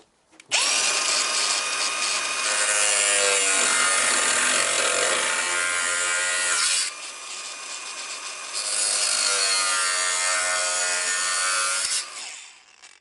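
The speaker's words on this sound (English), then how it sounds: "Right, let's grind these off." A power tool grinds off parts of a Giulietta's car bodywork, a loud, harsh, continuous whine that runs in two long bursts with a short dip between them.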